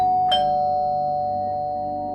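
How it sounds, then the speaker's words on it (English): A single doorbell chime rings out, a bright ding that hangs on with a long, slowly fading steady tone. "My hands shook as I rang the doorbell"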